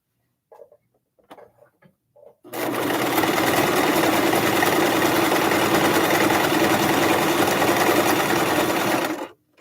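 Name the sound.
sewing machine straight stitching a tufted pillow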